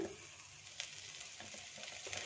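A mixture roasts in a pan over very low heat, giving a faint, steady sizzle with a few soft crackles and stirring scrapes.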